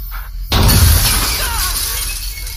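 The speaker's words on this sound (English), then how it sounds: "Tyler flinches, raises his hands as the back window blows out." A car's back window blows out as a birdshot blast hits it, a sudden loud shatter followed by a long spray of breaking glass that fades over two seconds.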